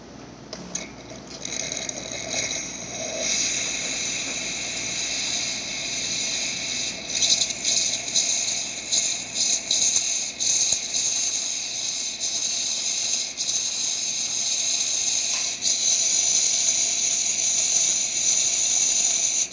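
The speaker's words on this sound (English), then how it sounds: "So nice strong steam." Strong, steady steam hiss from the steam wand of a DeLonghi Donna espresso machine, running continuously and close for about twenty seconds after a service, with slight rattling texture and no talk.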